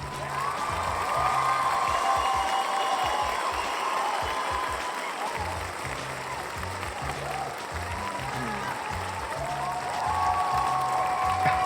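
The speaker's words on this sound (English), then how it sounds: "Let's go ahead and give that a round of applause." A crowd applauds and cheers steadily, with a few whoops. A rhythmic low-pitched music beat pulses underneath throughout.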